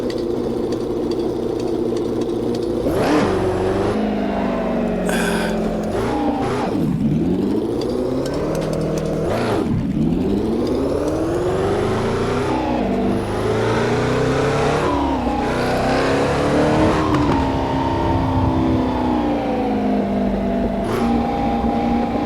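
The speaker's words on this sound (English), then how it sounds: "Neat sounding little car though, isn't it?" A small old car's engine revs while driving, loud and close throughout. The pitch rises and falls repeatedly as it accelerates and shifts, with a steady mechanical drone between revs.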